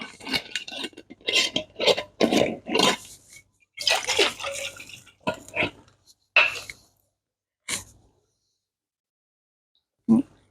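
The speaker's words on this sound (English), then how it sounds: "I always just add a little bit of water and shake it up." Water sloshes and rattles inside a spaghetti sauce jar being shaken, a series of loud, bursty splashing shakes for several seconds, then a few isolated knocks and taps near the end.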